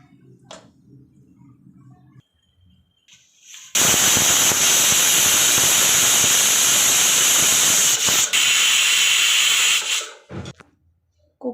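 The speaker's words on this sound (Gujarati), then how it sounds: "હવે એમાં ત્રણથી બે બે વિસલ આવે ત્યાં સુધી આપણે ચાલુ રાખીશું" A pressure cooker whistle shrieks loudly and continuously for about six seconds as steam jets out while cooking tavo chapadi, then cuts off, with quiet kitchen noise before and after.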